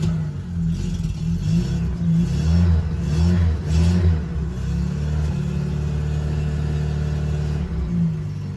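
An engine in a classic car, running on choke, rumbles steadily up close with a deep idle, swelling briefly in a few throttle blips before it settles into an even run.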